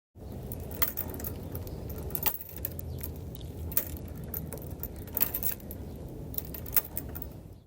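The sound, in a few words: chains of a swing set clinking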